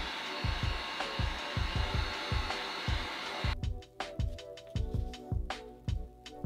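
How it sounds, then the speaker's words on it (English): A heat gun blows a steady, hair-dryer-like rush of hot air over foam pieces for a cosplay sword blade. Soft repeated knocks and handling thumps sit beneath it. Partway through, the blowing cuts off and leaves sparse clicks and taps. "I use my heat gun to straighten the pieces so I can keep them flat on the table"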